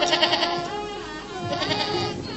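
Goats or young lambs bleating in a farmyard, several wavering cries layering over one another in a steady chorus, fairly close and loud throughout.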